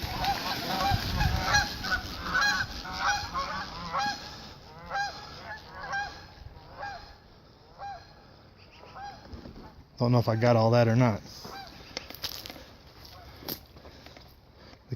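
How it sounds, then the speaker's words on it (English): Canada geese honking in a loose flock outdoors, with repeated calls through the clip and a loud, close burst of harsh honks near the end, while someone talks at times in between. "The Canadian geese."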